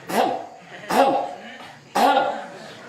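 Three forceful throat-clearing grunts, evenly spaced about a second apart, close and distinct, like someone demonstrating the action.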